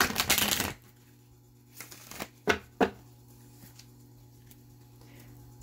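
Tarot cards shuffled slowly by hand, a burst of riffling at the start followed by a few soft separate card slaps, close and quiet in an otherwise still room.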